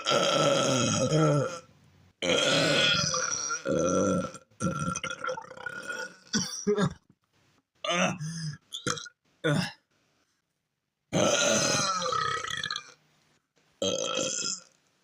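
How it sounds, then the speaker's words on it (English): Loud, long burps follow one another in a burping contest, deep and drawn out, some with groaning or hiccup-like catches, separated by short silences. "Which one of you dick twitches is doing a burp off?"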